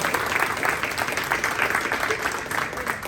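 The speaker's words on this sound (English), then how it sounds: "Clap it up again for our student speaker." A middle school ceremony audience applauds a student speaker with steady, dense clapping that fills the whole moment at close range, with a faint murmur of voices underneath.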